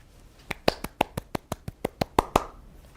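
A brief, sparse patter of clapping at a lecture, about a dozen crisp claps at a quick, steady pace, close by and fairly quiet.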